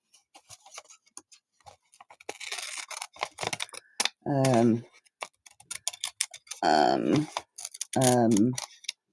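Scissors snip a crescent moon shape out of a playing card in a few short, crisp cuts amid light handling clicks and rustling, with a voice talking between the cuts.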